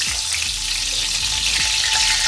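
Chicken for crispy chicken sandwiches fries in a pan, loud, steady sizzling and crackling oil up close, with no voices.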